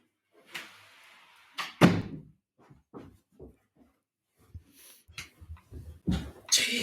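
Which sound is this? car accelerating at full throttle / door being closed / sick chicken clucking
door being closed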